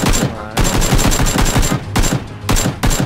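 Gunfire in the battle royale game PUBG Battlegrounds, loud rapid automatic bursts in several volleys separated by short pauses, close and dominant, with faint player chatter beneath.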